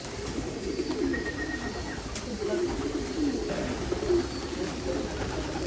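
A loft full of checkered blue bar pigeons coos continuously in a soft, overlapping chorus close by, with faint background talk.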